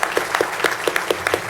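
Applause at a city council meeting in Fayetteville for the fire chief: a brief, fairly sparse run of evenly spaced claps in a quiet chamber, close and distinct.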